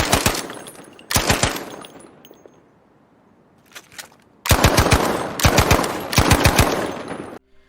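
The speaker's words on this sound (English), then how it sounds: "Part Welch actually gave us an audio clip showing how there is a subtle difference between the first person perspective of having the suppressor on to it not being on." Short bursts of automatic fire from an M3 Grease Gun in the video game Battlefield V, loud and sharp, with a quiet gap between the groups of shots, comparing suppressed and unsuppressed firing.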